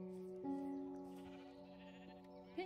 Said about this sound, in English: Pink sheep.